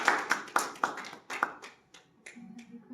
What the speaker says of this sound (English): giving you a round of applause for that session